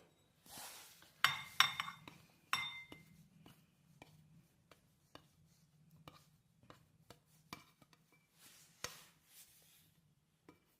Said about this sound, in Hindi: उसके अंदर इसको सारा प्लेट भर का जो नाश्ता बनाया था वो ट्रांसफर कर दीजिए।